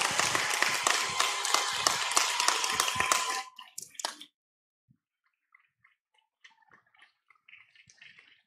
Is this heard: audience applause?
yes